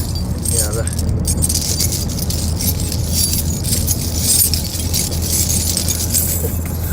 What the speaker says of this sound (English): I've got lots of keys.